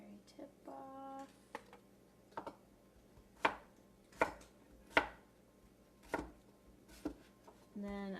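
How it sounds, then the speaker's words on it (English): A knife chops zucchini lengthwise on a cutting board in a quiet kitchen, sharp distinct thunks spaced a second or so apart, close and clear, with soft rustling between strokes. "So the zucchini I just cut in half lengthwise, and I'm going to cut it in half again lengthwise."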